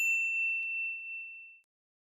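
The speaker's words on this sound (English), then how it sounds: "ring the bell to be notified about our latest videos" A single bright notification bell ding rings out cleanly and alone, its clear tone sustaining and fading away over about a second and a half into silence.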